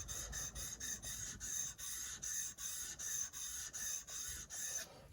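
A steel chisel is rubbed vigorously back and forth on a wet sharpening stone, making about ten even, rhythmic rasping strokes, close and fairly quiet, with no talking.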